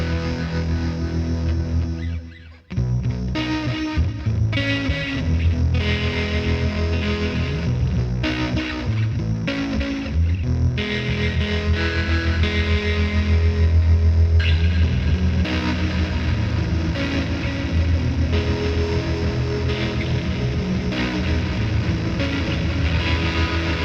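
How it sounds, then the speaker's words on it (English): A guitar played through an OBNE Parting pedal with the dissolve knob turned toward bit crushing, producing gritty, lo-fi distorted notes and chords that ring on for over twenty seconds after a brief drop near the start. "as you move to the left of noon, you introduce a little bit of bit crushing"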